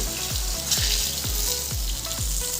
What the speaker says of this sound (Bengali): এই দেখো মাছগুলো একটু লাল লাল করে ভেজে নিচ্ছি